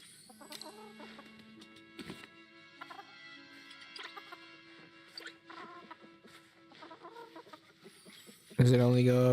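Chickens in the farming life-sim video game Palia, soft repeated clucks and chirps scattered over quiet background music, with a louder game sound bursting in at the end.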